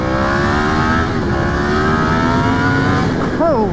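A Yamaha FZ-10 motorcycle accelerating hard on a night ride, its engine a loud, close, rising roar with steady harmonic climbs through the gears and a rider's exclamation near the end.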